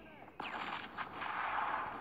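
Video game gunfire rings out in one sharp shot followed by a dense, sustained burst of rapid fire, fairly quiet overall and steady to the end.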